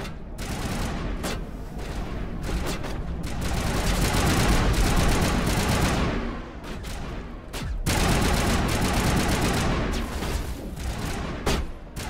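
Sustained heavy gunfire in the video game Mass Effect, dense crackling volleys and machine-gun bursts running nearly nonstop with occasional brief gaps, loud and close.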